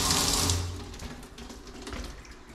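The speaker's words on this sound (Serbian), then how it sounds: "ovako klikneš na njega i ono krene voda" A push-button shower releases a steady rush of running water, loudest at the start and then settling into a continuous hiss and splatter close by.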